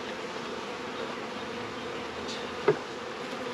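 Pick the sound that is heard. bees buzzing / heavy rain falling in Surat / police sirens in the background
bees buzzing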